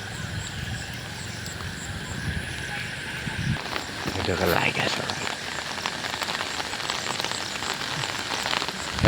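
Heavy monsoon rain hisses steadily in the background, growing slightly louder midway, with a faint voice and some distant rumble mixed in.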